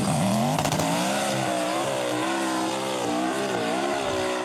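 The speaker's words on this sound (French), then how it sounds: "C'est une course de côte sur 120 mètres, tout droit, pied au plancher." A car races flat out straight up a 120-metre sand dune hill climb in Liwa, Abu Dhabi, its engine howling loud and near, pitch rising and dipping through gear changes without pause.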